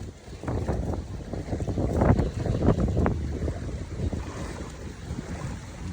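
Strong typhoon wind in Kawit, Cavite roars and buffets the microphone in uneven gusts, with a heavy low rumble and no voices.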